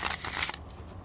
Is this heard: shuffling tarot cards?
yes